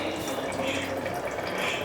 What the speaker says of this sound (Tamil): நம்ம அரிசிக்கு வந்து தண்ணி ஊற்றிக்கலாங்க